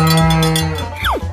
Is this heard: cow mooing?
yes